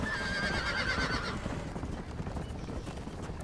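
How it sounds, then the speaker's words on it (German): A horse in the video game Red Dead Redemption gives a clear whinny at the start, followed by steady clip-clopping hooves under a constant game ambience. "Was ist denn das da für ein Pferd?"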